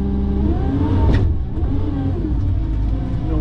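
The engine of a Tigercat 610E forestry skidder roars loudly and steadily as it revs for a wheelie, with a brief swell in pitch near the start before settling into a constant heavy drone.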